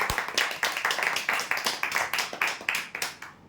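A modest crowd claps for prize winners at a lucky-draw event, with brisk, fairly even hand claps repeating steadily throughout, close and clear.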